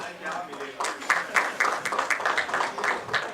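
Audience at a gold trade event applauding to welcome a speaker on stage, the clapping building into a rhythmic patter that continues throughout, with voices talking over it.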